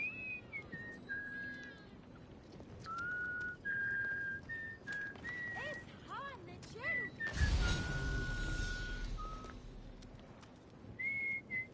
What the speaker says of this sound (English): Oh, he's just whistling.